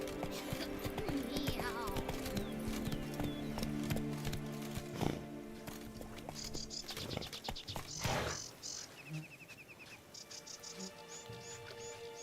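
Geralt's horse Roach in The Witcher 3: Blood and Wine, with hooves clip-clopping at a run amid birdsong and layered game music, then a sharp burst and quieter hoofbeats afterward.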